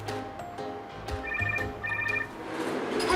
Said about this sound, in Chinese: 阿姐，我接一个电话。